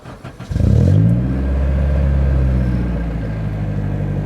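Honda K24 engine swapped into a Mazda FD RX7 cranks and fires up, then revs briefly and settles into a steady, fairly quiet idle, close by.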